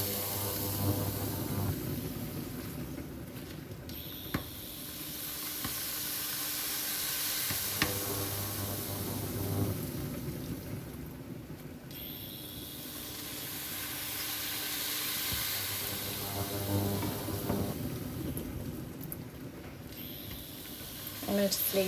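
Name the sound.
pork sizzling as it browns in a pan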